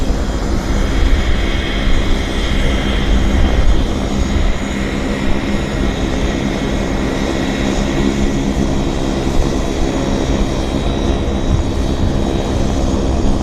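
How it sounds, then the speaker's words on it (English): A Cessna Citation medevac business jet performs at Vancouver International Airport, its engines producing a steady, loud broadband roar that holds evenly throughout with no voices. "Citation Medevac. It's nice to see these classic Bizjets"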